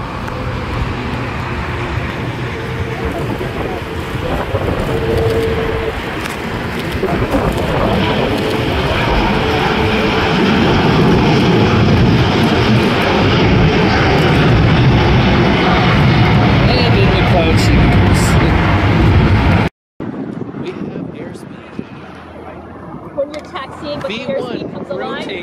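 An El Al airliner in retro livery departs LAX bound for Tel Aviv, its jet engines producing a loud, sustained broadband roar that builds and holds, heard from a hillside nearby amid faint traffic.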